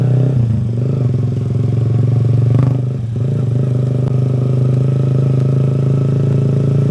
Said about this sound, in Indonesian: ini udah ada suara ngebassnya karena knalpotnya juga udah diganti ya